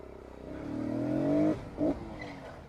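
A Honda Grom motorcycle pulls away, its small engine revving up in rising pitch for about a second and a half, dropping briefly, then revving again as it rides off, close and fairly loud with no talk.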